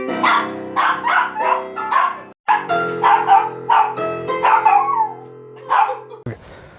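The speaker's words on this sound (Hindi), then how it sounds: "तो उन्होंने कुत्ता यहाँ पे रखा हुआ है" A house dog kept at an Airbnb barks and yips in a loud, close series of about a dozen sharp, toned bursts with brief gaps, alone without talk.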